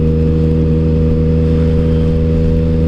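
A Yamaha FZ-09 motorcycle engine runs close and loud with a steady, sustained droning hum throughout and no voices.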